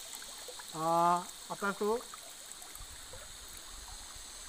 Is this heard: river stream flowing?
yes